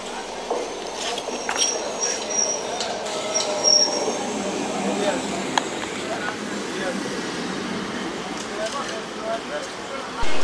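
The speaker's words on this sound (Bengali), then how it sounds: "ট্রেন ঢুকে গেছে ব্যারাকপুর লোকাল" A Barrackpore local train rolls into a railway station, giving a steady rumble with high wheel squeals and faint clinks throughout. A voice talks over the noise.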